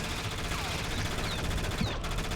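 Gunfire rattles in a video game as rapid, continuous automatic shots at steady moderate loudness, dense and unbroken through the whole stretch.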